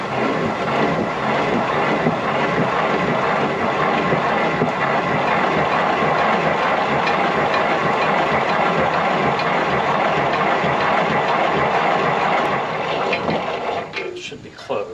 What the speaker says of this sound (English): The wheat grinds a lot faster.